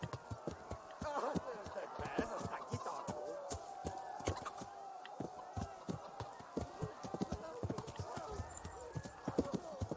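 Horse hooves clip-clopping during riding in the video game Kingdom Come: Deliverance, a steady rhythmic stream of sharp hoofbeats close by under a tonal background, with a voice talking over them.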